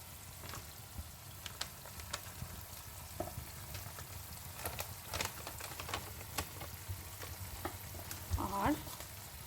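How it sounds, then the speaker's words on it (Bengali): Paneer gravy with cashews frying in oil in a pan, stirred constantly, gives a steady close sizzle with scattered clicks of the spoon and a few louder scrapes near the end. "আমাকে এটা কনস্ট্যান্ট নাড়তে হবে, কারণ যেহেতু এর মধ্যে কাজু আছে, না হলে নিচে লেগে যাওয়ার সম্ভাবনা আছে।"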